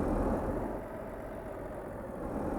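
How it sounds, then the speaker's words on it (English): A rough-running truck engine rumbles steadily from inside the cab, a low, even drone that holds at the same level for under three seconds with no voices. "It's a very rough sounding engine."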